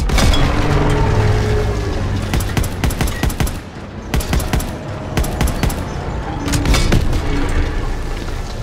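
Battle from the Call of Duty WW2 video game, with bursts of machine-gun fire and heavy booms from tank combat against Panzers, loud and dense, pausing briefly midway before resuming.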